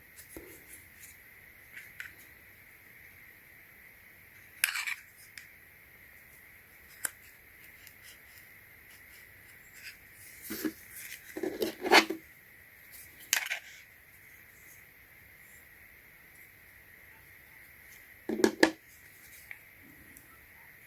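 Cards slid one by one into a PUNCUBE MECH MagSafe wallet, giving faint, sparse scraping clicks and brief plastic-on-metal rasps scattered across a quiet stretch with a steady background hum.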